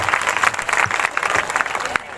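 Congregation at a live Easter church meeting clapping together, a dense burst of applause filling the room for about two seconds before it starts to fade.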